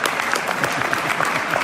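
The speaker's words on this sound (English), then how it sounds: "Let the people clap, don't do it for your own." Audience clapping at a Dealshaker Expo session in Paris, a dense, loud round of applause filling the whole short stretch with no one speaking.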